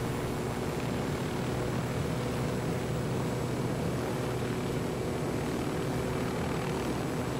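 A helicopter descends in the video game Modern Warfare, its rotor and engine making a steady, loud, unbroken drone with no other sounds over it.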